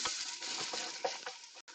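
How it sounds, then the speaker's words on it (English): Chopped onions sizzling steadily in a hot Instant Pot, a close, continuous crackling hiss with a few small pops. "Listen to that nice sizzling noise. Sizzling onions. Onions are sizzling."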